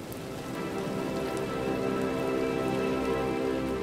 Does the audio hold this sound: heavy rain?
yes